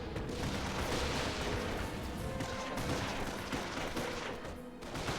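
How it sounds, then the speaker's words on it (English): Battle gunfire crackles around a base in the World War II strategy game Company of Heroes, a thick, continuous mix of shots, rattling bursts and dull booms. "Base is under enemy fire"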